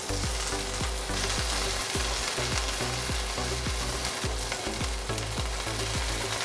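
Tofu salmon fillets brushed with a maple soy glaze sizzle loudly and continuously in a hot pan, a dense even frying hiss with a low rhythmic hum underneath.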